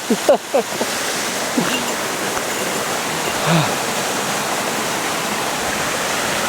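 Steady rushing of a mountain river flowing over stones, loud and close, with a few brief breathy vocal sounds near the start.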